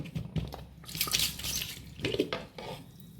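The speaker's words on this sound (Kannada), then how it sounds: "ಮಿಕ್ಸ್ ಆದಮೇಲೆ ಸ್ವಲ್ಪ ನೀರನ್ನು ಇದು ತೊಳೆದ ನೀರನ್ನು ಹಾಕ್ಕೊಳ್ತಿದ್ದೇನೆ" Water is poured into a bowl of mixed dosa batter made with colocasia leaves. There are faint splashes, trickles and drips in a few uneven bursts, with light clinks of the vessel and no voices.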